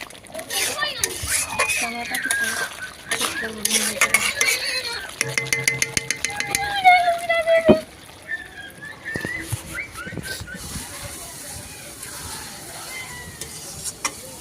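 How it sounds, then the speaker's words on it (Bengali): Chicken masala is stirred in a pan, with a utensil scraping and clattering against the metal over a steady sizzle of frying spices in oil. The stirring runs in busy bursts and stays close and fairly loud. "মাঝে মাঝে নাড়িয়ে নিতে হবে, না হলে নিচে জিনিসটা বসে যাবে।"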